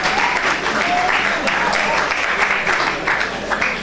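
Church congregation applauding and cheering for the Lord during a sermon, a steady dense wash of clapping and crowd noise held at one level throughout, with voices mixed in.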